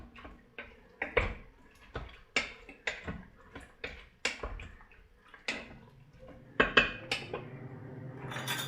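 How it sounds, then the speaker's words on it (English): A spoon scrapes and knocks against the inner pot of an Instant Pot while tomatoes and seasoning powder are mixed, sharp metallic clinks repeating in an irregular rhythm, close and fairly quiet. "Stir it up well."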